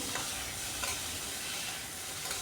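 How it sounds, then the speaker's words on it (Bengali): Potatoes frying lightly with turmeric and a little salt in a pan, a soft, even sizzle with faint stirring taps, fairly quiet throughout. "হলুদের মধ্যে আলুটা দিয়ে আলুটাকে হালকা ভেজে নিচ্ছি।"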